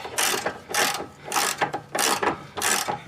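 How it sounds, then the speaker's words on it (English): A ratchet wrench cinches a toe link on a 2011 Ford Edge, giving five steady bursts of close, loud clicking with short pauses between strokes. "Get the wrench on there. Now we're going to cinch her up."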